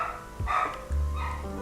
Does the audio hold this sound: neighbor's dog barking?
yes